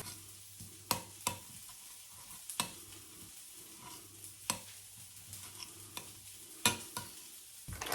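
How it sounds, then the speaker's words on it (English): Sausage halves fry quietly in a pan with a soft, low sizzle, broken by scattered sharp clacks of a utensil stirring or turning them. "I cut the sausage in half to cook it a bit quicker"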